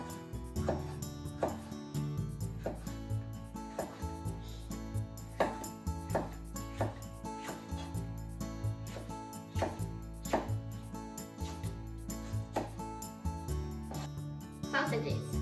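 Kitchen knife slicing a bell pepper into thin strips on a board, steady repeated thuds at a regular pace, while someone talks over the cutting and soft music plays.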